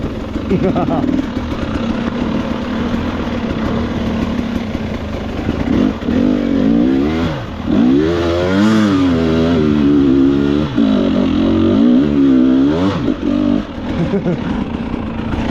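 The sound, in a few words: dirt bike engine revving in the snow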